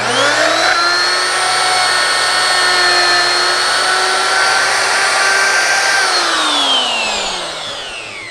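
Router cutting a wooden farm sign, a loud continuous high whine with steady tonal harmonics that holds for several seconds, then dips slightly in pitch and fades a little near the end.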